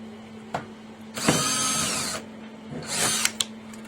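A power drill backs out screws from a hot tub topside control panel in two short whirring bursts, loud and close, separated by a quiet pause with faint handling clicks.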